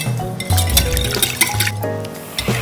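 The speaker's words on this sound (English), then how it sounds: "I'm going to whisk this together until the egg is completely mixed." A whisk beats egg and vanilla together in a small bowl for chocolate peanut butter cake batter, giving quick, close, wet clinks and swishes against the bowl's side.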